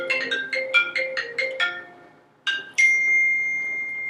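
A phone rings before a voicemail, a rapid repeating electronic chime tone that stops and then returns as two brighter tones, the last one sustained and steady, close and clear with no voices.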